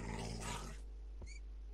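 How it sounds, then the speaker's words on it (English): A dog growls in the Minecraft video game, a short rough snarl that fades after about a second, followed by a brief faint click. "That's a dog."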